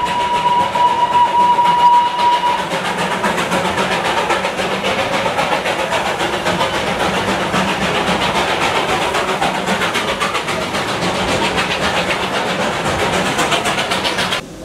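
Darjeeling Himalayan Railway toy train running, a steady loud rumble and rattle of the carriages throughout with a brief thin whine early on, no talking.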